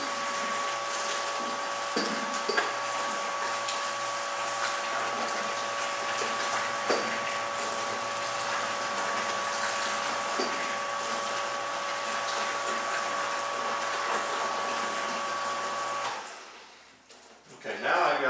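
Hot water at 180 degrees poured into a mash tun of grain and stirred in during all-grain brewing, a steady rushing, gushing wash with a constant electrical hum underneath, ending with a few closer clunks and handling noises.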